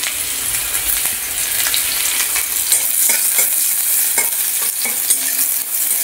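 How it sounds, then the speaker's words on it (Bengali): Chopped onion, with garlic and dried chilli nearby, sizzles in hot oil in a wok while being stirred, a bright continuous frying hiss with scattered scraping clicks of the spatula, no talking. "পেঁয়াজটা ভাজা ভাজা করে নেবো একটু।"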